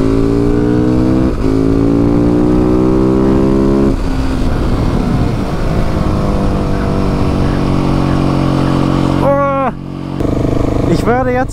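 A KTM 690 SMC-R supermoto motorcycle's single-cylinder engine revs loudly and steadily up close, pitch climbing and falling through several throttle blips, with a sharp burst near the end.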